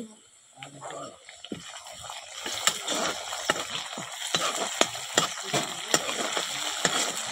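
Hissing, crackling sizzle of tomatoes frying in a pan over a wood-fired clay stove, with sharp irregular pops and clatters over a steady spitting background.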